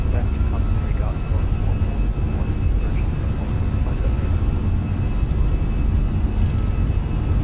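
A steady, loud jet engine roar from an Airbus A320 on its takeoff roll at Heathrow in Microsoft Flight Simulator, with a constant low rumble and a faint high whine, under a pilot's voice calling out speed.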